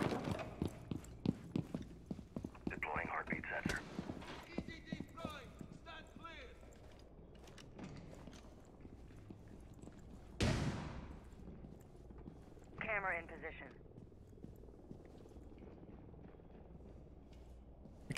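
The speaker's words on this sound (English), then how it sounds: "Oh, they're not team footsteps." Enemy footsteps in Rainbow Six Siege patter as a rapid series of quiet thuds, with a few louder game sounds cutting in and a player talking over them.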